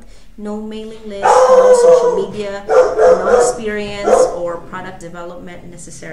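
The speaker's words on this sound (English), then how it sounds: "I apologize for my dog barking." A dog barks loudly in several short, harmonic bursts, overlapping a person who keeps speaking through the noise indoors.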